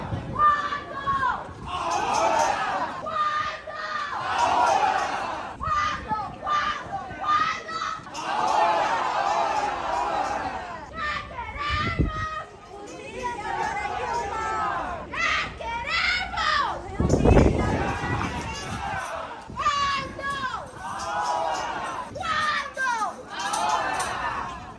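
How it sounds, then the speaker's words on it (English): Protest crowd outside a court hearing screaming and chanting in Spanish, many overlapping voices in rhythmic shouted bursts, loud and dense throughout with occasional thuds. "This is the crowd that they drew out there protesting outside of Paula Zenas's hearing."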